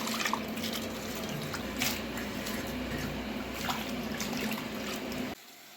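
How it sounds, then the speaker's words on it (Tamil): Dried anchovies being washed by hand in water, with soft continuous sloshing, squishing and trickling close up that stops abruptly near the end. "3 டைம் கருவாடை நல்லா வாஷ் பண்ணி எடுத்துக்கோங்க"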